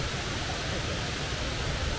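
Lakkam waterfalls in Munnar pour with a steady, broad roar of rushing water, dense and unbroken, with no voices.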